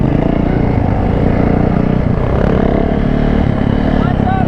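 A 450 dirt bike engine drones loud and close without letup during a wheelie attempt, a thick rough roar that holds steady the whole time.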